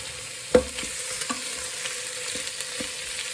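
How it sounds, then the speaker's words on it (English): Beef brisket browning in a hot pan for a pie filling, with a soft steady sizzle and a few clinks and scrapes as the meat is moved, close and alone without talk. "just while that meat is browning"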